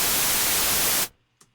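A single MIDI note triggers raw white noise from a Vital software synth at a high level, a loud, dense hiss that holds steady for about a second, then cuts off abruptly, followed by a faint brief blip.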